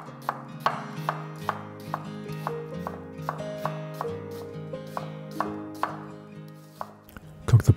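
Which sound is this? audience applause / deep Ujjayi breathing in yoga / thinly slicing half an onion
thinly slicing half an onion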